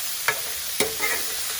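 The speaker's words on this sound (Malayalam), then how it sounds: "പാവയ്ക്ക ഇതും കൂടെ ചേർത്ത് നമുക്കിങ്ങനെ നല്ലപോലെ ഇളക്കി കൊടുക്കണം" Bitter gourd frying in a pan with curry leaves nearby, stirred now and then: a steady soft sizzle underlies two sharp spoon scrapes and a lighter stir, all close and alone.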